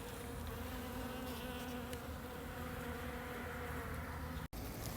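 A dense, steady drone of many pure Caucasian F1 honeybees buzzing together in a hive during a hive change, close and continuous, with no voices.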